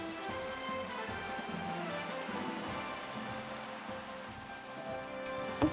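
Rain falls in the Minecraft Cobblemon video game, an even, continuous hiss that holds steady throughout, with no voices.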